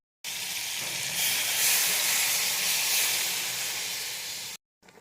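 Mutton stew sizzling loudly in hot oil in a pan, a dense continuous hiss that starts abruptly, swells slightly, then cuts off.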